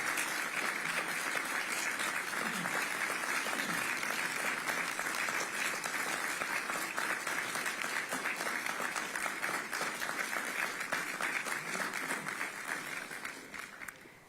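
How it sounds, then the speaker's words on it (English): Applause at the Gaza ceasefire signing ceremony in Sharm el-Sheikh, Egypt: sustained dense clapping from a large audience, even and steady for about thirteen seconds before fading out at the end. "Applause."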